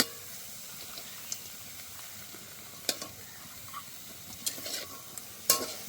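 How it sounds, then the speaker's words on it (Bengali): Crushed ginger, chopped garlic and carrots stirred and sautéed in a pan, a soft background sizzle broken by irregular spatula scrapes and clinks that grow busier toward the end, close and with no speech. "সব একসাথে ভালো করে একটু কষে নেব"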